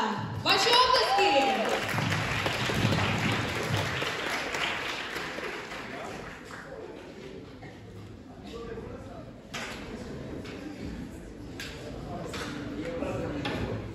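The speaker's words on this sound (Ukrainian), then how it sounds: "Чудовий вокаліст, артист Іван Прядка! Ваші оплески!" Audience applause for vocalist Ivan Pryadka at a Christmas student hall concert, loud and dense at first, then gradually thinning into scattered claps with a few voices.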